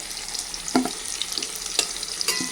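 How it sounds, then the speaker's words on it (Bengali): Potatoes fry in hot oil in a home kitchen, a light crackling sizzle broken by a few sharp clinks and scrapes of stirring, close by and with no talk. "আলু ভাজা হয়ে গেছে এখন আলুগুলো তুলে নিচ্ছে আমার বউ গরম তেল থেকে"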